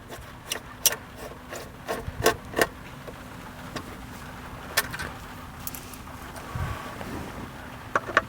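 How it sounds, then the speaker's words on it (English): Phillips head screws come out of the screen brackets of a 2016-2021 Lexus LX570: sparse, close, quiet clicks and light scraping ticks at irregular intervals over low background hum, with no talking. "I'm just going to take these screws off"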